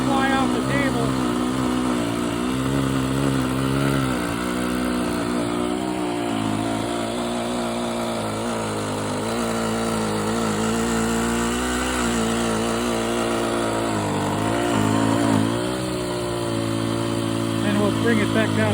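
A vintage Cub RC airplane's small engine runs at full throttle on a table, a steady loud buzzing whine that holds fairly constant for the whole stretch with slight wavering in pitch.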